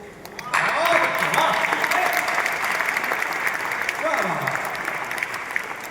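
Audience applause at a Hindi poetry gathering erupts after a brief quieter opening and carries on loudly, with a voice talking over the clapping partway through and a short cheer near the end.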